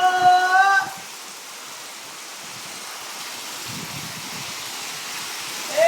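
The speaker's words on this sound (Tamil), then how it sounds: "மழை ஊத்துதுடா டேய்," Steady, broadband hiss of heavy rain pouring, loud and continuous, with a brief tonal sound at the very start.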